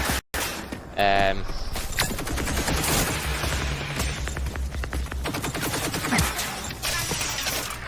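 Heavy gunfire in Rage 2, a dense barrage of loud shotgun blasts and crashing impacts with a sudden burst near the start, continuing through the clip with a voice speaking over part of it.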